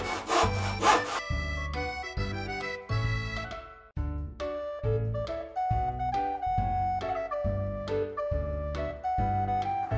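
A handsaw cuts soft wood for a display case frame in steady back-and-forth strokes, a rhythmic rasping close by with no voices.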